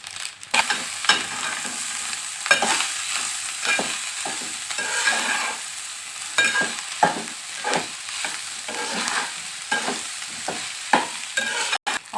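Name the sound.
stir-frying egg fried rice with tomato in oil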